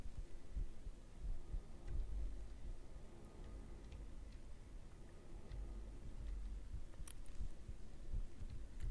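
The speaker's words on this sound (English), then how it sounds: "I hear the heartbeat." A heartbeat throbs steadily through the horror video game The Hat Man: Shadow Ward, a low repeated thumping that holds at moderate loudness across the whole stretch, with a faint hum beneath and no talk.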